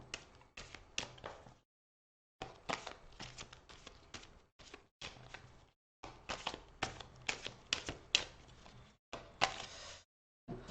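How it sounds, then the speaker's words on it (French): A deck of tarot cards is shuffled by hand in repeated quiet bursts of riffling and tapping. The clusters of crisp card slaps are broken by brief silences, and the sound is close and soft. "je prends ce paquet-ci, ce coup-ci, que je vais mélanger"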